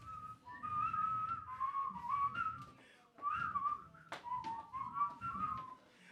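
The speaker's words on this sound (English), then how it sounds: "I like to whistle away my worries in a flurry of tune" A person whistles a bright, wandering tune alone. The clear melodic phrases rise and fall, with a brief pause midway.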